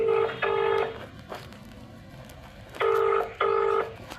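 A phone on speakerphone ringing out as a call is placed, two pairs of loud electronic tone bursts separated by a quiet gap, close and clear.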